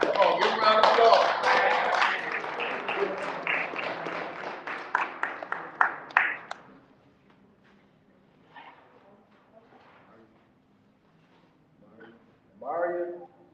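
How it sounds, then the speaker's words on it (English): Audience applause at an MLK brunch program, a dense burst of clapping for the first six seconds that thins into scattered claps and fades, followed by quiet room murmur and brief voices. "give a round of applause"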